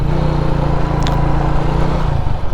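Hero Splendor iSmart i3s motorcycle engine running in third gear on a test ride, a loud, steady low thrum with a continuous hum and wind noise throughout.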